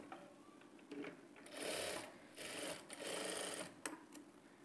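Sewing machine stitching cut blouse fabric strips together, running in several bursts of steady mechanical whirring separated by brief pauses, close and clear with no talking.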